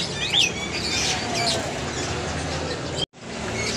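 An oriental magpie-robin (kacer) gives a few brief, high chirps early on, fairly close, over a steady bed of background hiss and noise that cuts out for a moment near the end.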